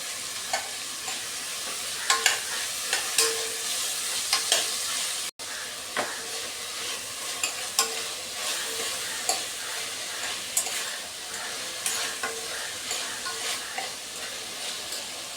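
Green chillies with crushed garlic and ginger frying in oil for a mutton kurma, a steady close sizzle broken by repeated scrapes and taps of a spoon stirring the pan.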